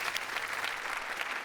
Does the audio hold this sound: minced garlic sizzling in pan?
no